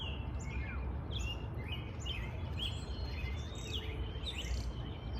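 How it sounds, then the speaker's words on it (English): Birds sing outdoors in a continuous chorus of bright chirps and trilling calls, layered and repeating over steady background noise, with no talking. "I love coming outside, listening to the birds."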